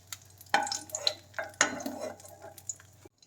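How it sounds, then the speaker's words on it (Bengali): Cashew nuts frying in hot oil, heard as a soft crackle with a few clinks and scrapes of a utensil against the pan, fairly close and fading to silence at the end. "কয়েকটা কাজু বাদাম ভেজে নেব।"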